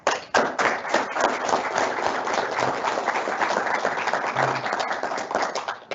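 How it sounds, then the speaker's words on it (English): Applause from an audience at a leadership talk as the speaker is introduced, a brisk burst of many hands clapping, fairly close, holding steady for several seconds before thinning out. "We'll see if the applause level is the same at the end of this"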